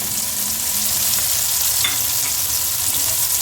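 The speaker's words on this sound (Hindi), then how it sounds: "इसमें से हमने ज़ीरा और ये मोटा गरम मसाला जितना है वो हमने ऐड डाल दिया।" Cumin seeds and whole garam masala (black cardamom, star anise, cloves) sizzle in hot oil, a steady close frying hiss with a faint stir or clink midway, no talk.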